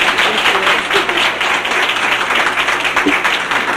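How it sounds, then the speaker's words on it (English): An audience at a foster grandparents gathering in 1994 bursts into dense, continuous clapping, loud and close, filling the whole moment without pause. "So let's give Irene an applause."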